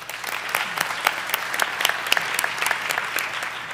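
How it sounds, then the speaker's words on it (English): Audience applause for the judges at a startup launch conference session, a dense, steady wash of many hands clapping throughout, fairly loud and without speech. "how about a round of applause for our judges who did an awesome job?"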